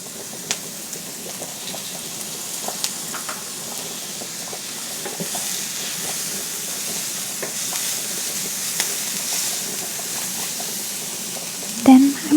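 Garlic sizzles in a pan for a homemade spaghetti sauce: a soft, steady frying hiss dotted with faint clicks and taps, and a brief clatter near the end.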